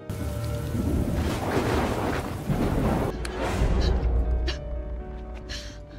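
A thunderstorm at night with steady heavy rain and low rumbling thunder rolling underneath, loud and continuous, easing slightly partway through.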